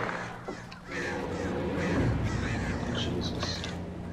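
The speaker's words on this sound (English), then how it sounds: "There's the birds." Crows caw harshly in the video game Alan Wake during a bird attack, several raspy calls sounding over a rumbling game soundscape at moderate loudness.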